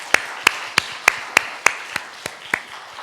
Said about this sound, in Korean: 두 사람을 위해서도 좀 박수를 한번 하겠습니다.